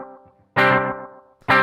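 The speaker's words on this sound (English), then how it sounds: "it's almost sounding like a reverb tone there. And just even shorter distance between the repeats." An electric guitar played through a Gokko Audio Dripping analog delay pedal set to very short, fast repeats, loud plucked notes with dense echoes smearing into a reverb-like tail, with a pause and another struck chord.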